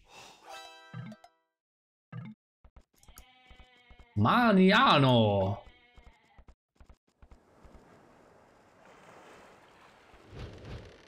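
A goat bleats in a real-time strategy game match, one loud wavering bleat standing out above sparse game effects and a commentator's talk.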